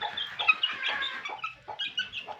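Young gamefowl chicks peep in a shrill, irregular chorus of short high chirps, close by and fairly soft, with brief pauses between bursts.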